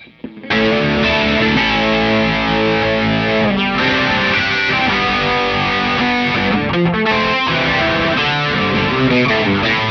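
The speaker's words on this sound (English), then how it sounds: "With some overdrive, it sounds like this." Overdriven electric guitar run through a DOD FX65 chorus pedal, with loud, sustained distorted chords that swirl with chorus, playing on steadily and alone after a brief quiet start.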